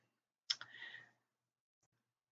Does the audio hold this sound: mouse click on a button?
yes